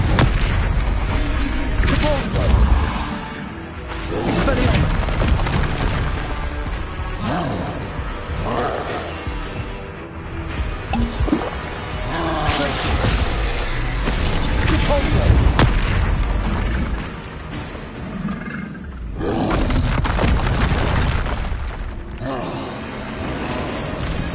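Spell blasts from the video game Hogwarts Legacy, including ice, push, fire and disarming spells, boom and crackle in loud, dense bursts over roughly twenty-four seconds, layered with booming impacts and clattering debris.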